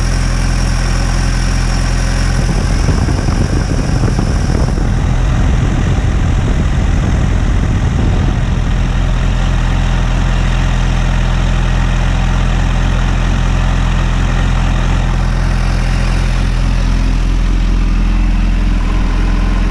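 A 2018 Kawasaki H2 SX SE motorcycle engine runs loudly and steadily throughout a test ride, with a rougher, rumbling stretch early on before settling into a constant drone.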